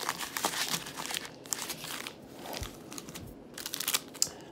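Foil Pokemon card packs from a Chilling Reign Elite Trainer Box crinkle and rustle in quick, uneven bursts as they are shuffled by hand at close range. No talking is heard.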